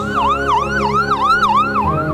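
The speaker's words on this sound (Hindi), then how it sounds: "कुल आधे घंटे में एम्बुलेंस हॉस्पिटल पहुंचा।" An ambulance siren wails loud and close, rising and falling in a steady repeating cycle with no voices over it.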